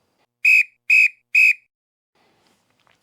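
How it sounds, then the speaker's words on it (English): Three short, sharp whistle blasts in an even rhythm at the start of a backyard ultra running race, loud and clear, followed by near silence. "there's one final, much hated whistle"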